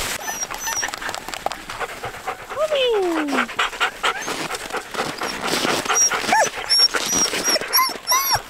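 Siberian huskies pulling a sled uphill through snow pant quickly and steadily close by, with a few whimpers and yips mixed in while a person speaks over them.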